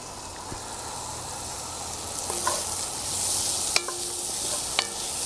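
Green beans with tomatoes and tasso cook in a pot on a stove, sizzling softly with a steady low hiss while a spoon stirs them, giving a few light scrapes and clinks.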